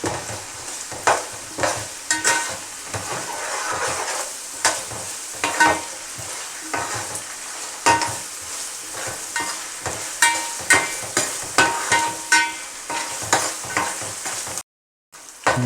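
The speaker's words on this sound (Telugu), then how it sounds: "ఒక స్పూన్ అల్లం వెల్లుల్లి పేస్ట్ పచ్చివాసన పోయేదాకా మీడియం ఫ్లేమ్లో పెట్టుకోవాలి" Ginger garlic paste and onion frying in a pan over medium flame, a continuous sizzle broken by regular stirring strokes and scrapes, no talking.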